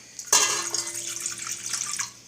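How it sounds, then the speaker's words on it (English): Warm water pours suddenly onto sugar in a KitchenAid stand mixer bowl for pizza dough, a bright splashing gush that settles into a steady trickle before stopping. "We add the water."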